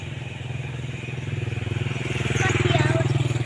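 A motorcycle engine drones steadily and loudly up close, a pulsing low rumble that swells toward the end while people talk over it.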